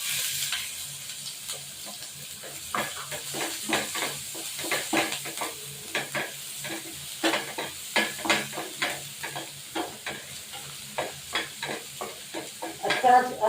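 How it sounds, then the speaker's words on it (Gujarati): Onions sautéing in a pan with cumin seeds and a pinch of asafoetida, a steady close sizzle broken by frequent scraping, clinking stirs throughout. "હવે પહેલા એમાં આપણે અડધા કાંદા સોતરી લેશું।"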